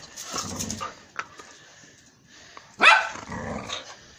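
A dog at home barks and growls while playing with its owners, several sharp close barks with a loud burst near the end, with low growling between them.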